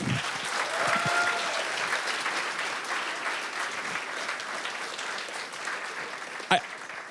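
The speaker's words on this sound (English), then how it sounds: "Huge round of applause, please" Audience applause greeting a reality TV writer taking the stage at a talk, a dense, steady round of clapping with a few whoops early on and a sharp knock near the end.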